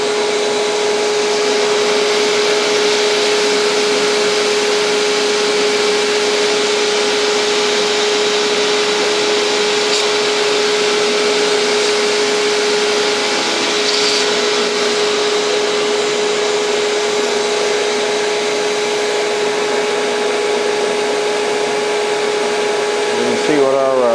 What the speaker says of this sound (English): I'm using my 220 grit belt, I'll go ahead and thin this edge down a little bit more